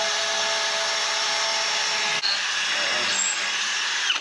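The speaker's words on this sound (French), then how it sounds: "Ça se perce pas trop mal." Power drill boring a hole into a metal bull bar for a winch install, a steady continuous whine and grind held close throughout, with a brief dip midway.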